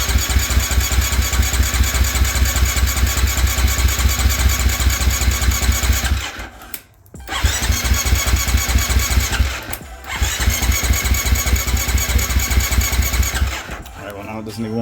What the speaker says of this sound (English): if I try to rev it a little bit, it'll backfire and pop a bunch